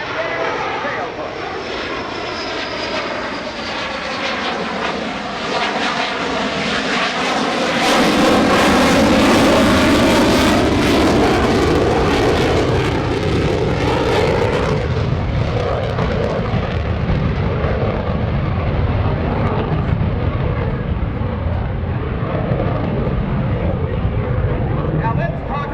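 Loud, sustained jet roar of an F/A-18F Super Hornet rising as it approaches low overhead at an airshow, gear and flaps down, then a broad rumbling wash as it passes; a voice talks faintly underneath.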